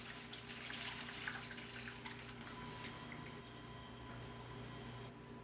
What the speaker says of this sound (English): So we add our water.